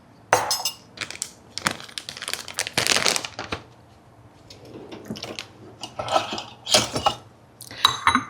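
Chicken calzone filling being mixed in a bowl, with irregular clinks, scrapes and crinkling bursts from a utensil against the dish, fairly close, with short quiet pauses between strokes.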